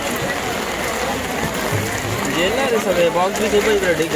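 Heavy monsoon rain falling over the busy Malad fish market, a steady hiss of rain under loud nearby talking and market bustle.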